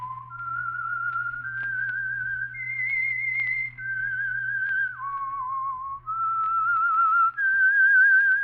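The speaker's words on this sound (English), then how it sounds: "That whistle is your signal for the Signal Oil program, The Whistler." A lone melodic whistle carries the eerie theme tune of The Whistler radio program, clear sustained notes stepping up and down with slight wavering, close and prominent over a faint low hum.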